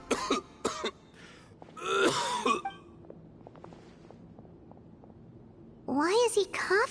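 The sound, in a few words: character coughing in video game Genshin Impact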